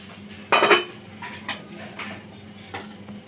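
A lid goes onto a cooking pan of kofta with a loud metallic clatter, followed by a few lighter clinks and taps of metal on metal, heard close up and alone.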